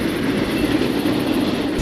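A metro train rumbles along its rails in Rio de Janeiro, a steady, loud, continuous roll with faint rhythmic wheel noise and no talking.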